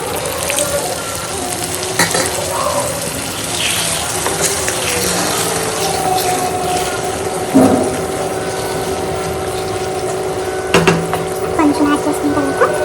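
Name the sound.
water being added to frying chicken curry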